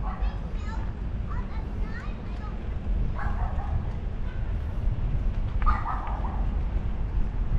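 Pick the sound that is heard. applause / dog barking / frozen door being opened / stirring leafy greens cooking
dog barking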